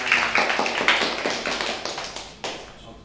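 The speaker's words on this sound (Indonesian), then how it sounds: "tepuk tangan dulu buat kita semua" A small school class claps together, a brief scatter of close, uneven hand claps and taps that thins out and fades after a final sharp clap.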